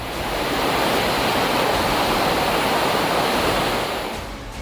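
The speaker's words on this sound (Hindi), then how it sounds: "मंडी कुल्लू नेशनल हाईवे पर ब्यास नदी का जलस्तर बढ़ गया और पानी सड़क पर आ गया" Swollen Beas river water pouring onto the Mandi–Kullu national highway during Himachal Pradesh flooding, a loud, dense, continuous roar that holds steady before easing slightly at the end, with no talk.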